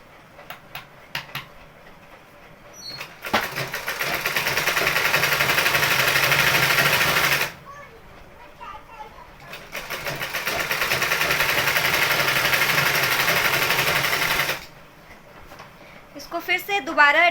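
A sewing machine stitches palazzo pants in two long, steady whirring runs of several seconds each, separated by a quieter pause with light handling sounds, loud and close.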